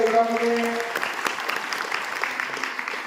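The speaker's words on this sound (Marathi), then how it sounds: "टाळ्या" Applause from a crowd, dense steady clapping that starts as a voice ends and continues evenly throughout.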